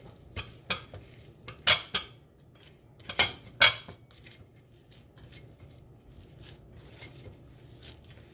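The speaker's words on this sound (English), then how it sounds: "Let me move my spoon aside for a minute." A metal spoon is shifted around and set aside in a mixing bowl of meatball seasoning, giving a few sharp, close clinks and scrapes in quick bursts before settling into quiet, faint rustling.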